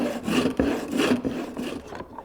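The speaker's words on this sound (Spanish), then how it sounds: "Ahora le cortamos con la sierra." A hand saw cuts through wooden boards for a barrel head in rhythmic back-and-forth rasping strokes, close up and steady, gradually slowing as the cut nears its end.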